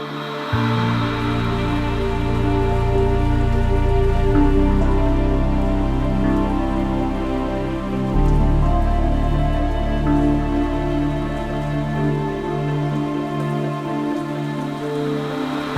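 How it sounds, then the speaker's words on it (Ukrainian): Heavy rain pounds on a Peugeot 3008 hybrid car, a dense continuous patter on the body and glass, loud and close, with a low steady hum underneath and no talk. "наразі розігрався дуже такий потужний дощик"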